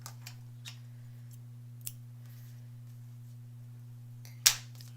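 Fabric scissors used in embroidery give a few faint, sparse clicks and then one sharp, louder snip near the end, heard over a steady electrical hum with no talking.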